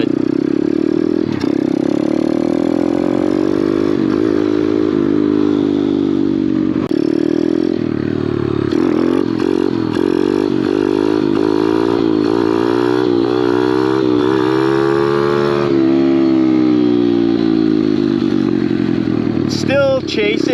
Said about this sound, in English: Since it's such a short small bike, the difference is like